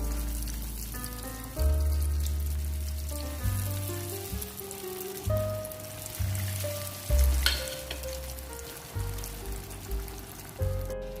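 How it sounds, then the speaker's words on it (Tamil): Paneer fingers deep fry in hot oil with a continuous bubbling sizzle, heard fairly quietly under louder background music with a steady bass line. "நான் இதை ஒன்றுக்கே அதில் போட்டு ஃப்ரை பண்ணி எடுக்க போகிறேன்"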